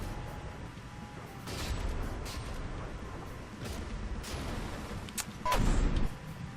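Enemy gun firing in the naval-combat video game From The Depths: faint, scattered booming shots over a low rumbling background, with a louder burst near the end.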